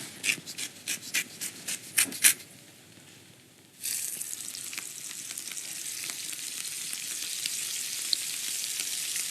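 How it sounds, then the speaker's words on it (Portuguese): Prawns hitting a hot pan and searing: a few scraping and tapping knocks first, then a steady loud sizzle of frying that continues close and unbroken. "vamos corá-las rapidamente"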